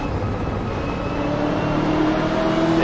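A modded race car engine in Assetto Corsa, a car on the Road Atlanta circuit, drones loud and steady with a slowly rising pitch, with no talking.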